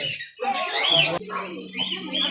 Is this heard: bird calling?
yes